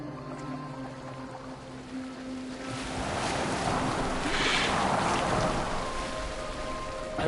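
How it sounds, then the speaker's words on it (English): A boat sails on open water in Assassin's Creed Valhalla, with a steady wash of water and spray that swells louder midway and stays close and continuous. "Are you well enough to steer this boat?"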